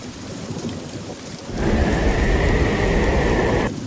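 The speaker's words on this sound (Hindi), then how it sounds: "कुछ ही दिनों बाद बारिश इतनी तेज हुई" Heavy rain and thunder in a cartoon forest storm, a loud continuous downpour that swells halfway through into a rumbling, roaring roll of thunder before easing.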